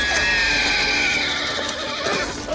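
A horse neighs loudly on a battle-film soundtrack with hooves clopping beneath, a short continuous whinny over dense, busy background noise.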